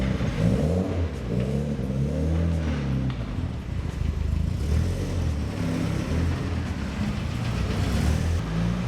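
A turbocharged Ford Escort sleeper fitted with an MTX gearbox drives off on a test run, its engine droning and rising through revs close up as it accelerates, continuous and fairly loud with no talk.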